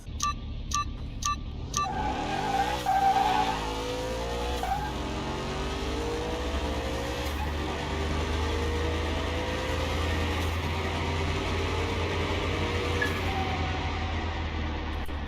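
Car race against a Tesla Roadster in Car Mechanic Simulator 21 with a tuned twin-turbo car: the engine revs up through rising gear sweeps, then holds a steady, loud drone until the end.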